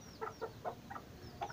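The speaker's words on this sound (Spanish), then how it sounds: "Miren la gallinita, miren los pollitos." A hen and small chicks at a poultry breeding yard, soft repeated clucks and thin high peeps coming in a quick irregular series, close and fairly quiet.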